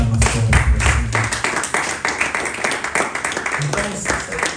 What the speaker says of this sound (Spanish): Vamos a darle una ofrenda de palmas por el Señor.